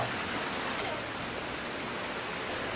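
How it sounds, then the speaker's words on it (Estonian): Undikuristiku waterfall on a stream in Harjumaa, Estonia, a steady, close, full-bodied rush of falling water with no pauses, heard alone. "Paljandi kohal asub Undikuristiku juga."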